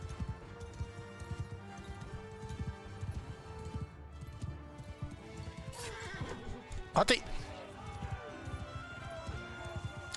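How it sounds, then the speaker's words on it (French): A horse neighs and gallops with clip-clop hoofbeats in a video game battle, a sharp whinny standing out midway over busy game noise while players talk excitedly throughout. "Mon cheval est pas rapide et pas maniable"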